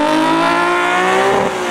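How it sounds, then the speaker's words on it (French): A BMW 323i E21 race car idles loud and close at the start line of a hill climb at Turckheim-Trois Epis, its engine holding a steady rough drone with strong harmonics before dipping slightly near the end. "c'est quand même le bruit caractéristique des Alpinas."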